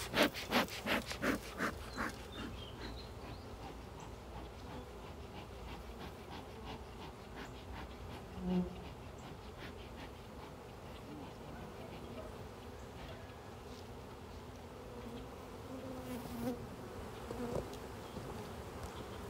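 A dense, steady buzzing of many honey bees fills the clip during hive splitting, with a few sharp taps near the start and occasional nearby movement.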